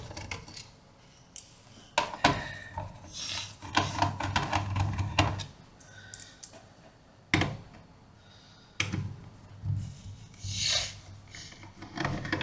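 An HP 15-p017ax laptop's case panel is pried open: scattered plastic clicks, snaps and scraping rubs come in irregular bursts at close range, with quieter handling noise between them.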